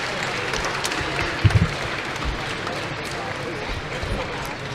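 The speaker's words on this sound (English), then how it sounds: "Very loud cheering to the right of us." A crowd at a Rubik's cube speedcubing competition, WCA Euro 2018, cheers and claps in a loud, sustained wash of noise, with a few sharper thumps near the middle and a voice speaking over it.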